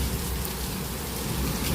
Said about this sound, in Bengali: জানলাটা খুলে দাও, কত বৃষ্টি হচ্ছে দেখো